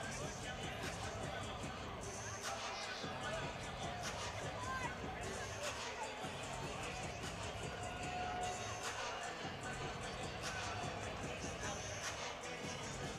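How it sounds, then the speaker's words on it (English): A crowd at an amateur fight reacts to a TKO stoppage with a broad, sustained murmur and scattered shouts, moderately distant, while people talk over it. "The crowd seems to not agree with that stoppage."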